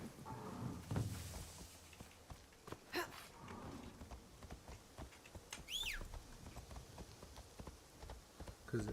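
Horse hooves clip-clop at a steady walking pace in a samurai video game, faint and fairly close, with a short whistle-like tone and a sigh partway through.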